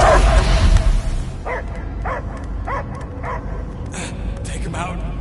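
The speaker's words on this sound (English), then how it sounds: "I hear only barking." A dog barks in a scene from the Guardians of the Galaxy game: a string of short, fairly close barks and yips at a steady pace over a low background rumble.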